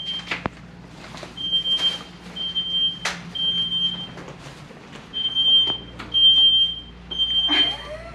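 A smoke alarm sounds in a home or rental during a trip through Utah, giving repeated high-pitched beeps in a steady pattern, fairly faint against room noise with scattered clicks and knocks.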